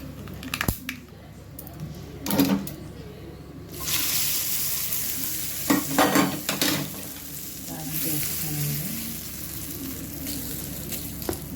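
A tempering of lentils, mustard seeds, dried red chillies, curry leaves, cumin and garlic frying in oil for tomato-sesame chutney. A quiet start gives way to a loud, continuous crackling sizzle with intermittent scraping and stirring clatter close by.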